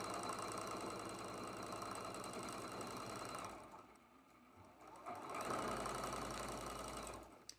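A sewing machine stitches quilt block pieces with a 1/4 inch seam, a quiet, steady rapid hum that dips briefly mid-way and then resumes running.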